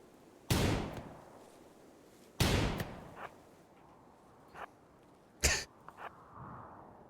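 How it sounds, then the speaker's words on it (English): Gunfire in the RimWorld video game comes as three sharp, loud shots spaced about two and a half seconds apart, each with a decaying tail, followed by a few fainter, shorter pops. "is that a gunshot sound getting closer?"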